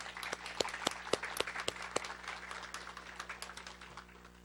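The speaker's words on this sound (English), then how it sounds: "Please join me in giving all our board members a round of applause." A hall audience at a teacher-of-the-year ceremony applauds the school board members, a soft, distant patter of many hands with a few sharper claps standing out, fading gradually.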